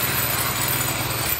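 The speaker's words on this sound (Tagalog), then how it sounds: "Hoyoma Japan po yan. Napakatibay po na grass cutter. 4-stroke po yan." A Hoyoma Japan 4-stroke grass cutter engine runs steadily, a loud, close, even buzzing drone with no pauses and no speech.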